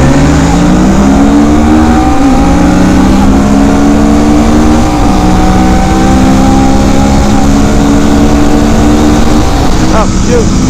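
Kawasaki Vulcan 650 and Honda Rebel 500 motorcycles accelerate hard in first gear, loud and close, their engine notes climbing and dropping in steady pulls over sustained wind and road noise, with a brief shift of pitch near the end.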